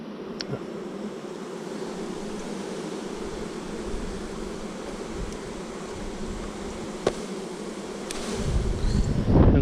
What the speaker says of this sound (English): the rest of these bees I'm going to leave under the hive so they can find their way in